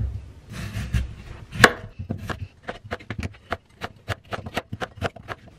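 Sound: knife chopping vegetables (carrot) on a cutting board

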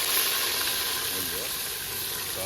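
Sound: chili, onion and tomato sizzling in ghee for khichdi

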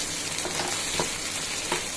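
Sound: tomatoes sautéing in a pan

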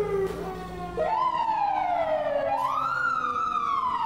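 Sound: FDNY fire engine siren

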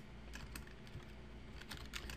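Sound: typing on a computer keyboard

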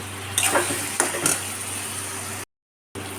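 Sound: ginger paste frying with mutton masala

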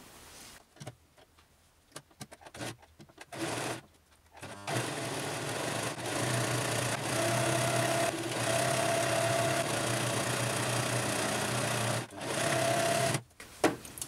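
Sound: sewing machine stitching a seam on fabric

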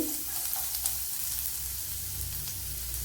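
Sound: ginger frying in coconut oil

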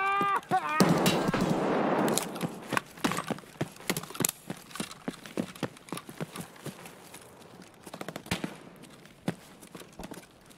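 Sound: gunshots in Escape From Tarkov video game

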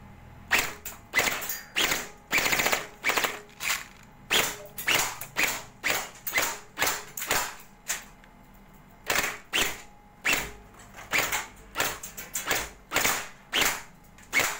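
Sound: cheap Runqi P90 airsoft gun firing full auto at caps

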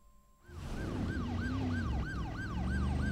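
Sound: ambulance siren in the video game Driver San Francisco

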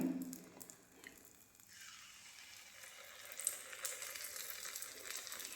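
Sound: batter frying in ghee for a temple offering

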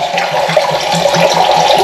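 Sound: hot water running into sink

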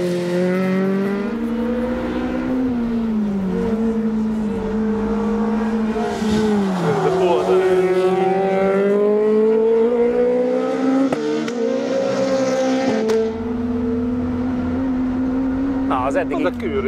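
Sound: Lada VFTS race car engine driving on track

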